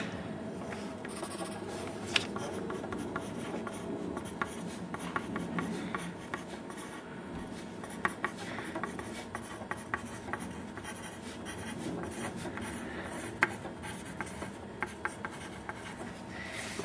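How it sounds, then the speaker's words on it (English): Pen or pencil writing the alphabet by hand on paper, a soft continuous scratching and rubbing with small taps as letters are formed, close and quiet throughout. "You'll want to write down the alphabet for,"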